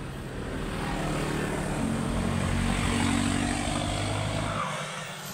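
A loud pickup truck engine roar swells and fades as it passes close by at night, a broad rumbling drone that drops away at the end.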